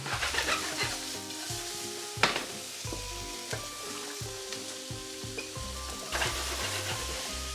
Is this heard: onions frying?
yes